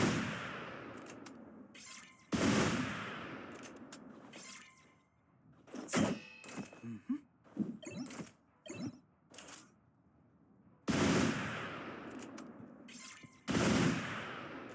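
Shots fired in Oceanhorn 2 crack out as sharp, separate bursts, some with a shattering edge, spaced irregularly between quiet gaps.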